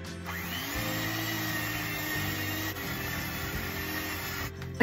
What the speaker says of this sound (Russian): 100 грамм сливочного масла взобьем миксером